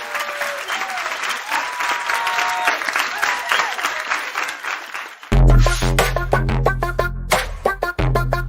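A crowd claps and cheers for a game-show contestant, a loud, dense wash of applause that runs for about five seconds before a heavy, pounding electronic beat abruptly takes over.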